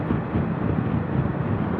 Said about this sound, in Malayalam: നല്ല കാറ്റ് വീശുന്നുണ്ട് ഇവിടെയും.